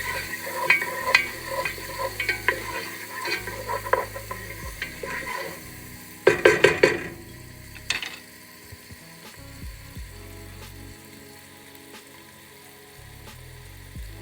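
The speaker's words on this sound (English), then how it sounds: "I have a couple tablespoons of butter in here. So I'm going to dump the onions." Chopped onions hit hot butter in a pot for chili, bringing a sizzle under clicking, scraping stirs, with a loud burst of metallic clatter midway before the frying settles down.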